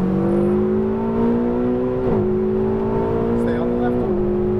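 A Ferrari 488 GTB accelerates hard on a racetrack, heard from on board, its engine note climbing steadily through the gears with brief dips at each shift, loud and continuous.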